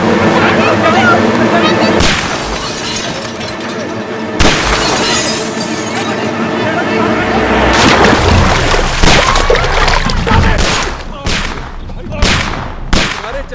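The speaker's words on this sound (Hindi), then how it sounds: "तुम्हारे चक्कर में किंग पे गोलियां चलवा दी" Gunfire in a chaotic scene from the Hindi comedy film Thank You, loud bursts and sharp cracks with shattering, breaking sounds scattered across the clip, mixed with music and brief shouting voices.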